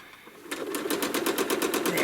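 A sewing machine stitching freehand feathers as an appliqué background starts up and runs faster, giving a rapid, even rhythmic clatter of needle strokes, close and alone.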